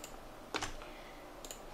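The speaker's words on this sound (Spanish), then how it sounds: "tendremos que pulsar la tecla Control más Shift, que es la tecla mayúscula, y hacemos clic en botón izquierdo" Computer keys pressed and a mouse button clicked while working in Maya, two quick close clicks followed by one fainter click, with no talk.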